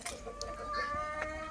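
A turkey at a farm-style jungle resort near Koyna gives a clear, harmonic gobbling call, close and fairly loud, with a few shorter clucking notes mixed in.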